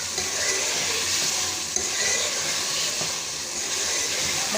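Spice masala sizzles and fries on a hot tava, a loud, continuous hiss with faint stirring scrapes and no talking.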